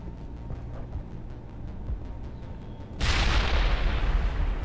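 Weapons fire in the Mass Effect Legendary Edition video game: a rhythmic train of muffled shots is followed by a sudden loud, sustained burst of booming fire and explosions.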